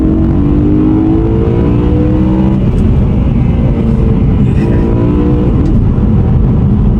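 A loud naturally aspirated V8 car engine roars steadily, its pitch climbing and falling in revving sweeps, close and continuous with no voices.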